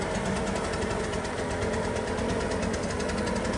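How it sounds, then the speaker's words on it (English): A blower spreads excess sealer across concrete pavers, producing a loud, constant engine roar and rushing air that fills the whole stretch without pause or speech. "We're using the blower to move the excess sealer around"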